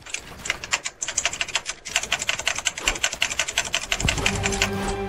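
Rapid clacking on a computer keyboard during Fortnite play, quick uneven bursts of keystrokes, close and crisp, ending as game sound swells.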